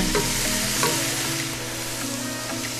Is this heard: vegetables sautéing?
yes